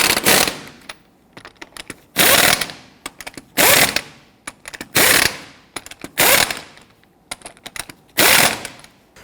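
On a 2006-2010 Hummer H3, an impact wrench snugs lug nuts in about six loud, rapid hammering bursts, each lasting roughly half a second, separated by quieter ratcheting and clicking.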